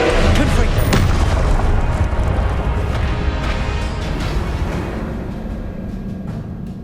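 Confringo spell blast in the video game Hogwarts Legacy, a loud close boom with a sharp onset that rolls off into a long rumbling decay.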